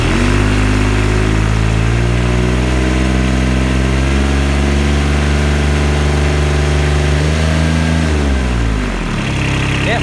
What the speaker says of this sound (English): We'll just try revving it a bit.